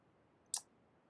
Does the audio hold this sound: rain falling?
no